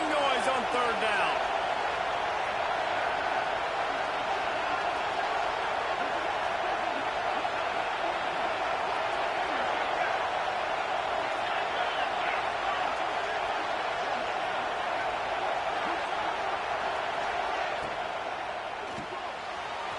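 Dense, sustained roar of a football stadium crowd at an Alabama game, building noise on a third-down play; the broad wash holds steady for the whole stretch and eases slightly near the end.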